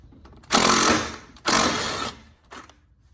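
A 10 mm socket turning nuts loose on a Fiat 124 Spider, near the coolant reservoir: three loud, close bursts of rapid whirring rattle, the first two long and the last brief, with quiet gaps between and no talking.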